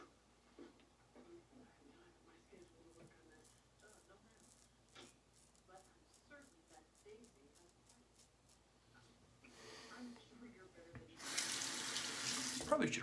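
A bathroom tap runs for rinsing a shavette razor, a steady rush of water starting loud near the end after quieter handling sounds and soft talk.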